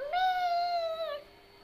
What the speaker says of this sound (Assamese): আৰু মেকুৰীয়ে কেনেকে মাতে